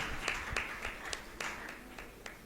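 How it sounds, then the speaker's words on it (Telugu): Congregation at a church healing meeting clapping in a loose, uneven rhythm, moderately loud and close, with sharp claps spaced irregularly across the short stretch. "గట్టిగా చప్పట్లు కొడదామా?"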